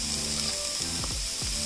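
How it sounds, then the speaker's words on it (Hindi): Mustard oil poured over lightly sautéed onions in a home kitchen pan sets off a steady close sizzle, with a few brief clinks and scrapes over the top. "मैं सरसों का ऑयल इसमें ऐड कर रही हूँ।"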